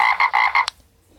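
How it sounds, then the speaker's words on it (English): A frog croaks in four quick, loud, evenly spaced pulses, then a short click, and the clip falls quiet. "Okay, this frog."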